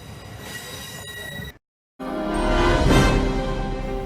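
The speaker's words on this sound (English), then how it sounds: "The new blue train has arrived at the western province of Matanzas" A new blue passenger train pulls into Matanzas station in Cuba, its wheels grinding and squealing on the rails, loud and steady, with a brief silent gap partway through.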